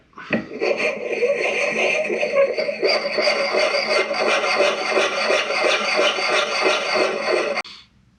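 A lubricated blade is sharpened with a file in steady, rhythmic rasping strokes, close and loud, repeating evenly for about seven seconds before stopping abruptly.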